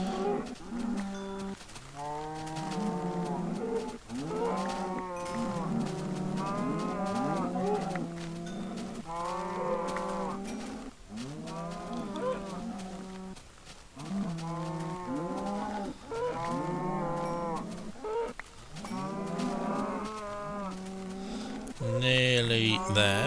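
A herd of cows in a video game moos over and over, long overlapping bellowing calls in quick succession, loud and close, with no talking.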